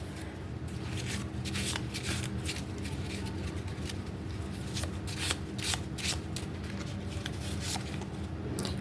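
A deck of mini oracle cards is shuffled by hand close up, giving a dense, continuous run of crisp riffling and flicking that lasts throughout, with a faint background hum and no talk.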